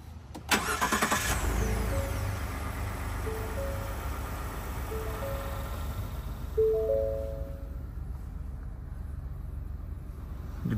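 A 2016 Ford F150 EcoBoost truck engine cranks and catches with a sudden burst, then settles into a steady idle while short electronic chime tones sound from the cabin.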